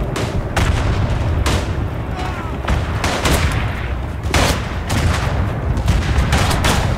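Gunfire in the World War I shooter Tannenberg: loud bursts and single shots crack repeatedly at close and middle distance, with booming reports mixed in, and no talking over them.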